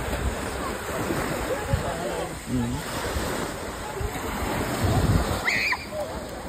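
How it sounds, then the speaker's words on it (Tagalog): Sea surf at Mangodlong on Camotes Island, a continuous wash of waves with heavy wind buffeting the microphone and brief voices in the background. "Grabe kanindot nilang dagat diri."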